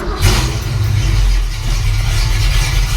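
A 1968 Ford Mustang engine running loud and close as the car backs off a ramp, a deep low rumble swelling at the start and holding steady throughout.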